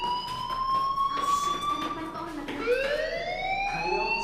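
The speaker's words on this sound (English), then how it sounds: "Hey, do you hear that fire alarm? That means you should be outside." Fire alarm ringing in the video game Life Is Strange, a loud, sustained wailing tone that slides up and down in pitch, with voices talking over it.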